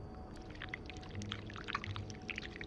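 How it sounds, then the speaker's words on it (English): Wax being poured from a pot in the video game This Bed We Made, a soft, faint trickling pour heard on its own. "we need to pour the wax from the pot"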